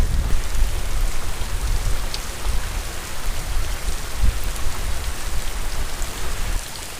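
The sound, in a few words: heavy Florida rain while wade fishing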